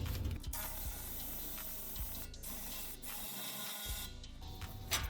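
A hand ratchet loosens the ball flange on the passenger-side muffler of an S197 V6 Mustang, with repeated clicking bursts over a steady mechanical background and no talk.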